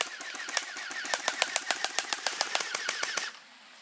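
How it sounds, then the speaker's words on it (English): A Tommy-style BB gun fires a rapid burst of about twenty sharp, evenly spaced clicks at a target, loud and close with no voices, then cuts off abruptly into quiet. "We're just about to shoot."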